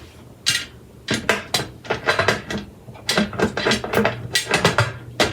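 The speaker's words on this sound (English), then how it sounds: "All right, our canner is full and we're ready to lock our lid down." Metal lid of a pressure canner full of jars of black beans being twisted and locked down, giving a rapid series of clanks, scrapes and knocks, close and loud, with no talk.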